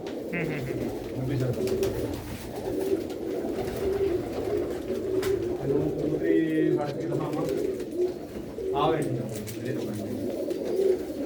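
A small female pigeon coos in low, repeated rhythmic phrases close by, with other bird calls and occasional human voices in the background.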